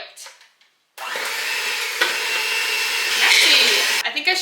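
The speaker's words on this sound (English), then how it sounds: "with an electric mixer, mix on high speed for 5 minutes or until it's lightened in color" An electric mixer whirs on high speed through donut batter in a bowl, a loud steady drone that starts abruptly after a brief quiet and runs on, with faint clatter near the end.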